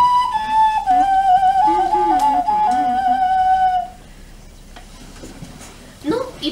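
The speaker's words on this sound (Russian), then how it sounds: "Конечно, тоже свисток у поросенка в пятачке" A Petrovskaya clay toy whistle shaped as a piglet, with the whistle set in its snout, sounds one steady, clear tone for about four seconds, then falls silent, followed by faint handling noise.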